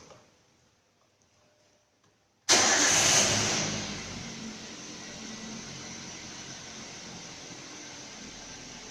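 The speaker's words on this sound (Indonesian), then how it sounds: "Dan kita hidupkan mesin." After a couple of seconds of quiet ticking, a car engine with its oxygen sensor disconnected cranks and fires with a loud burst, then settles into a steady idle.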